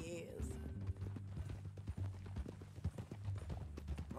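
Horse hooves clip-clopping at a steady walking rhythm in Red Dead Redemption 2, a moderate, even beat of footfalls under a man's spoken dialogue.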